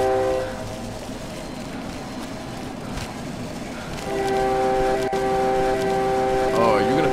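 A train in the horror video game Cry of Fear rumbles past with a steady, heavy rolling roar that swells partway through as a sustained horn-like tone comes in, under a voice talking.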